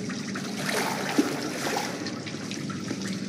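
A river of blood flowing through a sewer in the horror video game Outlast: steady trickling, gurgling liquid that runs continuously at moderate level, with no voices.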